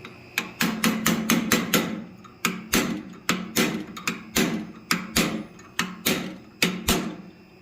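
A blacksmith hammers a fuller into a steel turkey forging, striking around twenty sharp, ringing metallic blows in a brisk, slightly uneven rhythm. The strikes are close and clear, with short pauses between groups.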